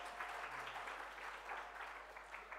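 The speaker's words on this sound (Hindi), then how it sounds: "इसीलिए ये तालियां पीछे से आ रही, आगे नहीं कर रहे हैं" An audience at the back of a hall claps during a Ram Katha religious discourse in Indore. The applause is faint, distant and continuous, and no voices are heard.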